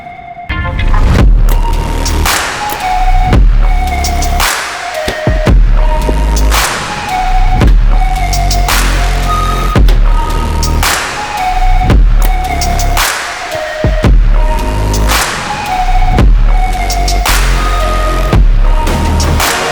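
A Mathews Lift X compound bow is shot repeatedly while being sighted in, giving a series of sharp thumps roughly every second or two, each followed by a brief ringing tone, close and loud.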